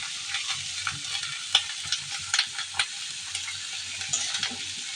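Cauliflower frying in a pan with onions and chilies gives a steady close sizzle, broken by irregular scraping and clattering strokes as it is stirred.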